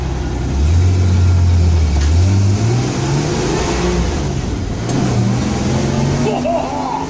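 A car with no turbo and no launch control accelerates and revs as it drives off down the road, its engine note rising and falling loudly for several seconds, heard from inside.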